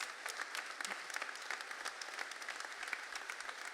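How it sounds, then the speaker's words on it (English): An audience gives a round of applause for young socialists at a Labour campaign event backing striking workers, a dense, steady wash of many hands clapping that fills the room without pause. "can we just have a massive round of applause for all those young socialists with all those fantastic"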